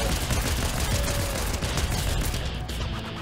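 Rapid gunfire in the Fortnite video game, a dense burst of loud overlapping shots and crackling impacts, sustained and close, fading slightly at the end.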